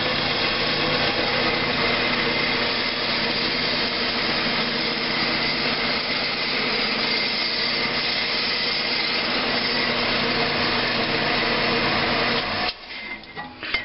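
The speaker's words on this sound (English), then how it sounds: "With that, let's saw us off a couple pieces." A saw cuts steadily through a graphite bar being sliced into pieces for electrolysis anodes, giving a continuous loud, close grinding drone that stops abruptly near the end, with no talk.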